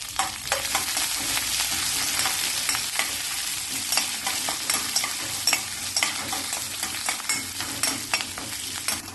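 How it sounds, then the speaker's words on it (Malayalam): Dried red chillies, curry leaves, chopped ginger and green chilli sautéing in oil for lemon rice, a loud, steady crackling sizzle with frequent sharp pops and scraping stirs close by, no speech. "1-2 വറ്റൽമുളകും കുറച്ച് കറിവേപ്പിലയും 1 ടീസ്പൂൺ ഇഞ്ചി ചെറുതായി മുറിച്ചതും 1 പച്ചമുളക് ചെറുതായി മുറിച്ചതും ചേർത്ത് വഴറ്റാം."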